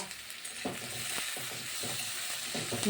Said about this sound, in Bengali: এখন এই পেঁয়াজটা ভাজা করে দিচ্ছি আমি